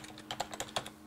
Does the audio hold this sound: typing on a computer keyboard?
yes